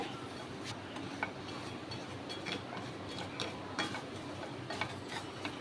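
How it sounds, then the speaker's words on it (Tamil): Semolina roasts in ghee over a low flame while a spoon stirs it, making quiet ticking scrapes against the pan over a soft, steady sizzle. "லோ ஃப்ளேமில் வச்சு ஒரு மூணு நிமிஷம் நல்லா இந்த நெய்யில் வறுத்து விட்டுக்கலாம் ரவையை"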